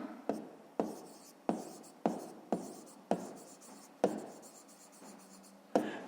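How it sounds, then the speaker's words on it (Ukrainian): Pen or pencil writing by hand on paper while working a fifth-grade maths exercise, a steady series of about ten sharp scratchy strokes evenly spaced, close and fairly quiet, with no talking. "Записуємо в дужках чого годин."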